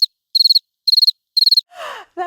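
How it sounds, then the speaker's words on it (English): Crickets chirping as a sound effect: three short bursts of rapid high pulsed chirps, loud and close, followed by a brief swooping tone and a stuttering electronic flourish. "Crickets."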